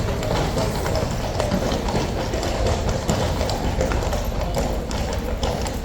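Household Cavalry lifeguards' horses at Horse Guards clip-clopping past on hard ground, a steady dense patter of hooves close by over continuous outdoor bustle, with some voices mixed in.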